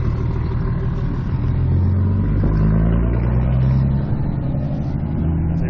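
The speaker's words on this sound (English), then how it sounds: "As a very loud truck pulls away." Loud truck engine pulling away on a small-town street in Eureka, Nevada, a steady heavy mid-low engine drone with revving, close and continuous for several seconds with no talk.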